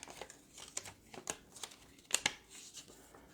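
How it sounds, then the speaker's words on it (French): Quiet crinkling and small tearing snaps as a pre-cut vellum paper flower is detached, with a few sharper pops near the end and no talk. "une belle fleur ici que je vais détacher en vélin"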